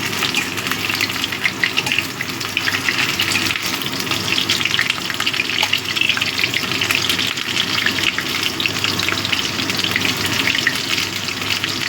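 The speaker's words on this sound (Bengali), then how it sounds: "এবার আলু আর ফুলকপিটা একসাথে ভেজে নেব।" Potatoes and cauliflower fry together in hot oil in a pan, giving a loud, continuous sizzle with crackling spatter close by and no voices.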